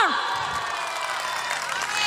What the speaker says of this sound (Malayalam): ചൂടായിട്ട് നല്ലൊരു കയ്യടി പോരക്കെ മോ